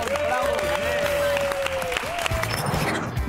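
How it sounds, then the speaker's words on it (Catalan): A studio audience on a live Catalan television show claps for a guest who works as a farrier, a short burst of applause with cheering. A host's voice cuts in over the clapping near the start. "Un aplaudiment per Ramon."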